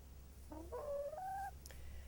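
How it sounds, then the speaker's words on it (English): A live chicken gives a short, faint run of rising, drawn-out clucks and a squawk over a low steady hum, alone with no talking. "Most children have never seen a live chicken either."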